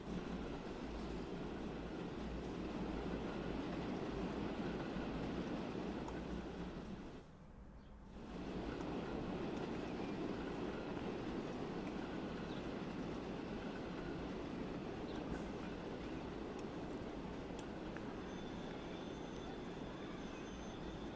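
A train runs in the railway simulation game Transport Fever 2 as a steady, low rumbling wash of rail noise over about twenty seconds, broken by one brief dip partway through, with no talking.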